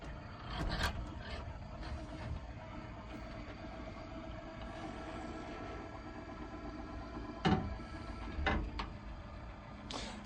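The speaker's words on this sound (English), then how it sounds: "And here goes the ramp." The motorized wheelchair ramp of a 2015 Toyota van deploys with a steady, low mechanical rumble and grinding drone. A few sharp clunks and knocks break through as it moves.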